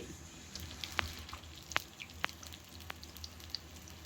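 A handful of onions hits hot oil for haleem, giving a quiet, low sizzle broken by a few sharp, scattered pops and crackles.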